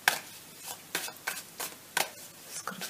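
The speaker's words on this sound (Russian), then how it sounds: "Пока я мешаю карты" Deck of tarot cards being shuffled by hand, giving a series of soft, papery riffles and taps roughly every half second, close and quiet with no speech.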